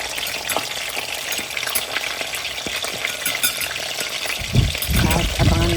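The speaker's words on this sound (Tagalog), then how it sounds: "Piprituhin muna po natin ang isda." Oil sizzles and crackles steadily as a salmon head fries, with a few clatters of utensils and a louder splattering burst near the end.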